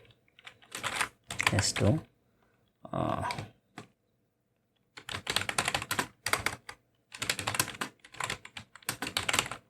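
Bursts of rapid clicking on a computer keyboard come in several separate runs, close and crisp, with short pauses between them and a person speaking briefly in between.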